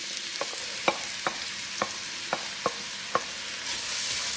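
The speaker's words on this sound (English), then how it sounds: "I'm going to add my 2 onions that are diced fine" Finely diced onions frying in hot canola oil, a steady bright sizzle broken by regular clicking taps of a spoon against the pan, close and alone.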